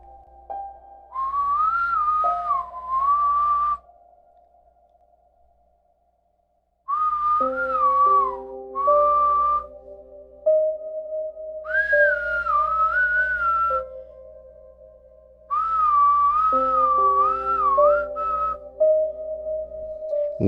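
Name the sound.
rhythmic human whistling outside a window at night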